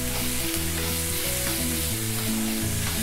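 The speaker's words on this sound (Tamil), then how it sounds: "வெங்காயம் ஆட் பண்ணிட்டு நம்ம நல்லா வதக்கி விட்டுக்கலாம்." Chopped onions sauté in a pan for chicken paniyaram, giving a steady, close sizzling hiss with faint stirring scrapes, no talking.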